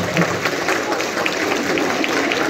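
Audience applause for children at a live show, a dense, even patter of clapping from a crowd that holds steady throughout with no clear break.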